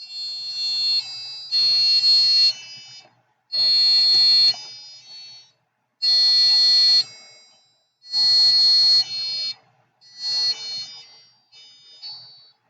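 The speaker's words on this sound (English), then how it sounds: "You want to play again the music before end this presentation of buzzer?" A small piezo buzzer driven by an Arduino board plays a simple tone melody, with loud, shrill electronic notes in phrases about a second long separated by short silences, alone and close.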